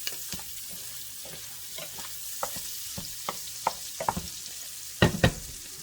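Smoked sausage browning in a pan for jambalaya, giving a steady close sizzle with scattered stirring clicks and louder pops near the end, no talking.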